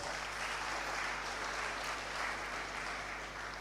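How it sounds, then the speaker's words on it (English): A large crowd attending the grand finale of a tertiary business competition applauds, a steady, even roar of many hands clapping heard at a moderate distance over a faint electrical hum. "Please give yourself an applause."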